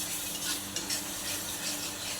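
Spice masala sautés in hot oil, a continuous, dense sizzle with soft stirring scrapes throughout, close and steady with no talking.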